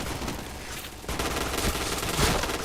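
Rapid automatic gunfire from a shooter video game rattles on loudly and continuously in bursts, growing denser after the first second.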